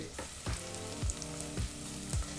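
Onions frying over a low flame in a pan for sambar, a steady close sizzle broken by rhythmic stirring scrapes about every half second.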